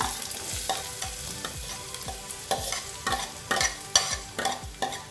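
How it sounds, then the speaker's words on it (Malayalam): Chopped onions go into a pan for Malabar coconut rice, frying with a soft sizzle while a spatula scrapes and stirs in repeated strokes, the scraping growing louder toward the end. "ഇനി ഇതിലേക്ക് നമുക്ക് നമ്മുടെ സവാള ഇട്ട് കൊടുക്കാം"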